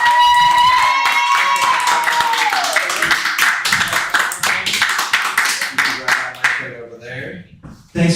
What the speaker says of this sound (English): please give a round of applause for Beauty Barzz